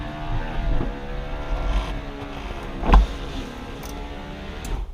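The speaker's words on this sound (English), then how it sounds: "Now raise the soft top." Electric soft top of a 2004 Porsche Boxster 986 being raised, a steady motor whir with faint ticking mechanism sounds and a brief louder clunk partway through, heard up close with no talking.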